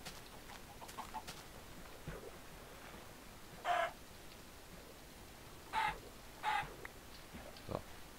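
A Minecraft chicken gives a few short, separate clucks over a quiet game background, spaced out across the stretch with soft ambient noise between them.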